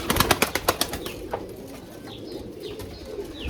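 Pigeons, including a young Saraylı-breed squab, are heard up close: a quick run of wing flutters at first, followed by soft, repeated coos and rustling.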